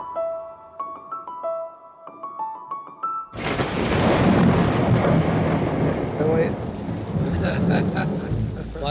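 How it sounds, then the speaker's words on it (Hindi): Loud thunder breaks in and heavy rain pours down steadily for several seconds after a short melodic chime passage at the start, with no talking. "बारिश होने इस बारिश के मौसम में डरा दिया।"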